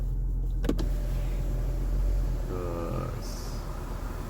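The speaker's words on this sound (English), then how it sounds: "Panorama sunroof. So now, but I'm gonna close it now." Electric panoramic sunroof on a 2020 Kia Sportage closing, a steady motor whir with a brief mechanical clunk early on and a rising whine near the end, heard from inside the cabin with no talk.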